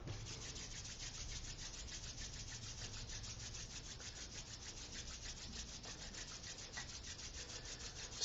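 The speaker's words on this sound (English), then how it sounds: "Let's bring the hands at the heart center and rub them together." Palms rub briskly together at close range during a live-streamed yoga class, a continuous dry swishing friction that holds steady for about eight seconds with no talking.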